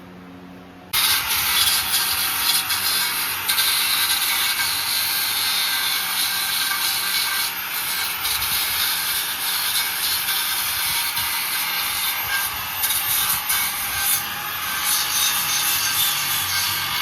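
Steady, loud grinding on car exhaust pipes, a harsh continuous hiss that starts abruptly after a brief quiet moment and runs without pause.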